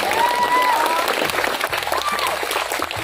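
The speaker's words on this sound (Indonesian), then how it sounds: "Tepuk tangan dulu dong untuk" Students applauding at a school ceremony at a junior high school, a steady outdoor burst of clapping throughout with a few voices and cheers mixed in.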